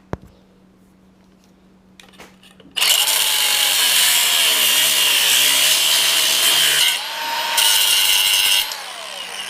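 A grade 8 bolt being cut off with a power cutting tool, a loud sustained grinding whine that starts abruptly after a quiet lead-in, dips briefly in pitch partway through, then resumes before cutting out near the end.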